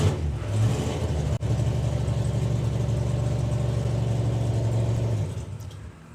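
Richard Tunstall's drag racing car engine at the Springspeed Nationals drag racing meet runs loud and close, holding a steady rough rev with one brief cut early on before the note fades away near the end.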